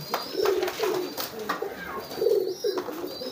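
Homing pigeons coo softly in repeated low, throaty bursts, close by, with faint background rustling and distant chirps.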